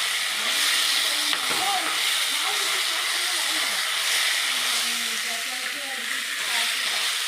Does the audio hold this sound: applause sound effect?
no